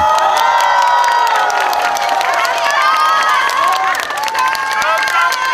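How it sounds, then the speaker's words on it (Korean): A festival crowd at an outdoor concert stage in Uiryeong County, Korea, cheers, shouts and applauds loudly and continuously, with high whoops and tonal squeals layered over a dense wall of noise. "우리 의령군 오태왕 군수님께 큰 박수 부탁드리겠습니다"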